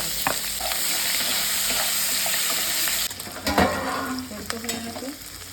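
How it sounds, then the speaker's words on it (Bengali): Chopped onion and green chili fry in fish oil, a steady close sizzle that drops in level partway through, followed by spatula scrapes and clinks against the pan. "এটা একসঙ্গে ভাজতে হবে।"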